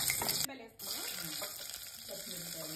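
Onions and green chillies frying in a pan for Telugu katta, a steady close sizzle with faint stirring, briefly cut off near the start and then continuing evenly.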